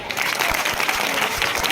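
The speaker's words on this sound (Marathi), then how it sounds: "एकदा हिच्यासाठी जोरदार अशा जोरदार टाळ्या वाजल्या पाहिजे" An audience at a state-level open dance competition during a Shiv Jayanti festival applauds a dancer, a thick, continuous burst of many hands clapping from start to finish.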